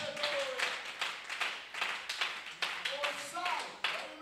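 A church congregation claps along in praise, a run of close rhythmic hand claps mixed with a preacher's voice and singing-like shouts that keep talking over the clapping.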